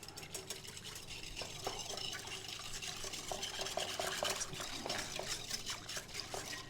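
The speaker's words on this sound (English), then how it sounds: "Just give that a little whisk." Light whisking of instant yeast soaking in liquid in a bowl, a steady run of soft clinks and swishes at close range under faint room noise, with no talking.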